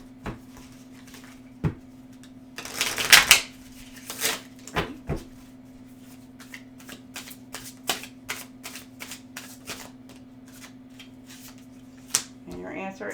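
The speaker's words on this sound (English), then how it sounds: "We're going to shuffle 3 times." Tarot cards are shuffled in a few short riffling bursts, followed by scattered soft taps and card handling, close and fairly quiet over a faint steady hum.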